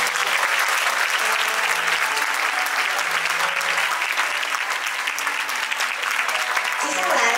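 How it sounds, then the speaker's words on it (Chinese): Wedding guests applauding at a same-sex wedding ceremony, a loud continuous wash of clapping that stays even throughout, with voices faintly mixed in. "来宾掌声祝福他们"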